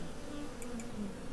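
Honeybees buzzing at a hive entrance, a faint steady hum with a few brief higher-pitched passes of insects flying in and out.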